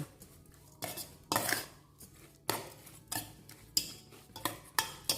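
Shrimp larb for a raw-shrimp dish is mixed together by hand in a bowl. The result is a series of irregular clinks and knocks against the bowl, fairly loud and close, with short gaps between them and no talking.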